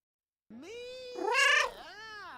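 A cat gives one drawn-out meow, close and clear. The pitch holds steady, then rises into a louder, brighter middle and falls away at the end, with no other sounds around it.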